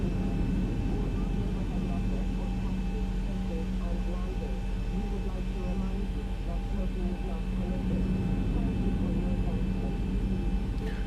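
A simulated Zibo Boeing 737-800 taxiing to the runway in X-Plane 11, with a steady, droning jet engine hum and whine that holds constant throughout, and a voice talking over it.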